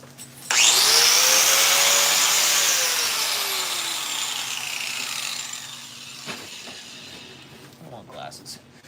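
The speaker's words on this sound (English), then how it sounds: "So I'm gonna grind just a second. Just a bit of noise." A grinder bites into metal on a Ford Excursion bumper build, a loud, harsh, high-pitched grind that starts abruptly, holds for several seconds while slowly fading, then stops, followed by faint clanks.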